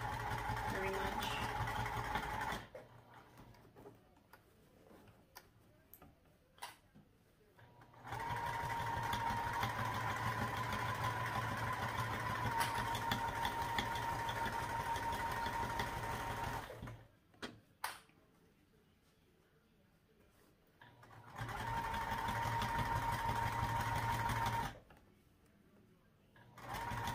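A sewing machine stitches backpack fabric in three separate runs of steady, fast mechanical whirring and ticking, with quiet pauses between them.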